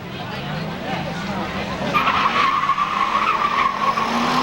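Race cars at Seekonk Speedway, among them a 1986 Nissan 300ZX and a 1988 Firebird Formula, roar off at the start of elimination qualifying, engines rising in pitch as they accelerate together, with an announcer talking over them.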